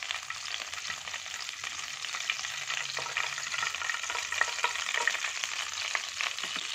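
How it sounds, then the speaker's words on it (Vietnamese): Garlic dropped into hot oil in a pan for braised mackerel in tomato sauce, a loud continuous close sizzle with bursts of crackling throughout, without speech. "Dầu sôi rồi. Mình cho vào đây tỏi này."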